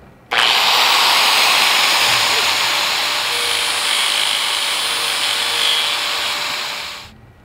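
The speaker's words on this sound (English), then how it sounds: "I'm gonna have to cut a slit in it with a grinder" An angle grinder cuts a slit into a stripped screw head on a sailboat project, a loud, steady high-pitched whine that starts abruptly, holds for about seven seconds, and cuts off.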